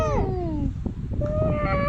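A cat meows in a short clip, with a falling, drawn-out cry followed by a brief second meow, loud and close over a noisy background.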